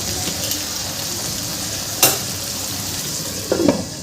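Salted potatoes sizzle steadily in a frying pan while a spoon stirs them, with a couple of sharp scraping clinks against the pan over the constant close-up frying hiss.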